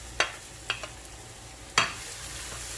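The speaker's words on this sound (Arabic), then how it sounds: "هذا بصلنا بعد ما حمي عندي الزيت بنزل بالبصل" Onions frying in hot olive oil, a soft steady sizzle broken by a few crisp stirring scrapes from the pan, close up, with no one talking.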